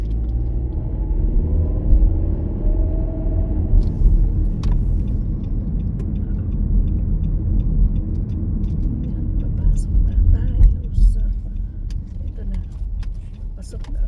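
A car idles in slow traffic at a stoplight near a shopping center, a steady low engine rumble filling the cabin with faint clicks and small rattles on top.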